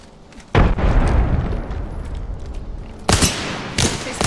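A frag grenade goes off in the Apex Legends battle royale game, with a loud boom followed by ongoing rumble and another sharp blast with more bangs near the end.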